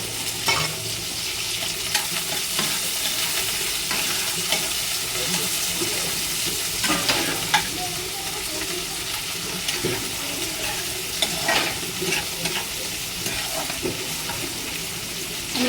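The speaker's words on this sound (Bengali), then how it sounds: "আমি এবার পেঁয়াজটা দিয়ে দিচ্ছি, আর এই মাছটা এই যে ভেজে দিচ্ছি" Onion and fish fry in hot oil with a steady, loud sizzle, broken by repeated scrapes and clinks from stirring in the pan.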